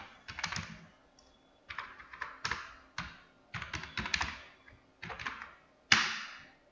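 Bursts of typing on a computer keyboard as VBA macro code is entered for an Excel spreadsheet, quick clusters of soft key clicks separated by short pauses, close and fairly quiet, with no talking.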